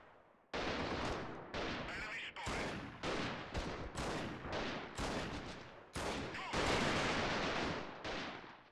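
Video game gunfire cracks out in a steady string of loud, close shots and short bursts, nearly a dozen in a row. Each shot ends in a sharp echoing decay.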